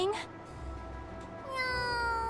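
A cat in the game Super Neptunia RPG meows in a short rising cry, then meows again more drawn-out, close and clear over a quiet background.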